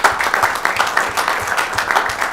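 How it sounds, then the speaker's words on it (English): Applause fills a city council meeting chamber, a dense steady patter of many hands clapping at moderate loudness throughout. "Let's give a round of applause."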